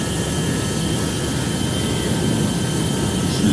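A jet engine in the GeoFS flight simulator spools toward full power, giving a loud, steady broadband roar with a faint high whine that holds constant throughout, with no talk.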